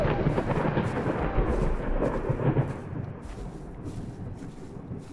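Heavy rain falls steadily in Layers of Fear, with a deep rolling thunder rumble swelling in the first half and then settling into a continuous wash of rainfall, heard alone without any voices.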